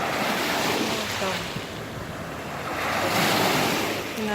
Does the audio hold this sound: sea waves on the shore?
yes